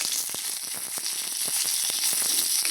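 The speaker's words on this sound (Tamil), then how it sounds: "நல்லா வதக்கி விட்டுக்கலாம்." Big onion and curry leaves sautéing in hot oil in a pan, a loud continuous sizzle with crackling pops heard close and alone.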